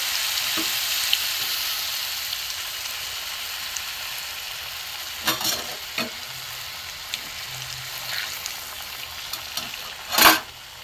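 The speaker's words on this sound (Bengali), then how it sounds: "আমি আস্তে আস্তে এই গরম তেলে ছেড়ে দেবো আমি এই ছেড়ে দেব একটা একটা করেই করবো" Radish fritters in gram-flour batter fry in hot oil with a steady, close sizzle and hiss, broken by a few louder crackles and spatters as pieces are lowered in one at a time.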